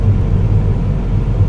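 A 2014 Volkswagen Beetle R-Line turbo engine pulls hard while driving, a loud, close, low rumbling drone that stays steady inside the cabin with no talk.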